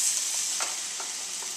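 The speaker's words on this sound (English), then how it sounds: "We have 1/4 cup of red cooking wine that we are going to throw into this pan" Red cooking wine and A1 steak sauce hitting a hot pan, a close, bright hiss with a few quick sputtering bursts, brief and with no voices.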